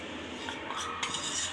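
Spoonfuls of gram flour (besan) go into rice flour batter for brinjal and tomato fritters, with a metal spoon clinking and scraping against the bowl in a short, close burst.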